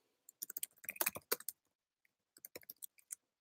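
Typing on a computer keyboard, two quick bursts of close, crisp key clicks separated by a short pause, quiet and alone.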